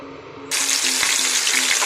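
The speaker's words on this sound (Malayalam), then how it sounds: "ഇനി നമുക്ക് ഓരോ പീസായിട്ട് ഫ്രൈ ചെയ്തെടുക്കാം" Chicken pieces drop into hot sunflower oil, and a loud, close sizzle suddenly bursts in and keeps going steadily, following a quieter stretch of soft kitchen noise with faint taps. No one speaks.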